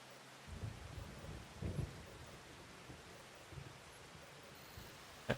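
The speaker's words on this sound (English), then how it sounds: "it really is just going to rain all day in April" Video game rain and thunder in Farming Simulator 25: steady rain hiss with low rumbles of thunder swelling now and then, a continuous soft wash of noise throughout.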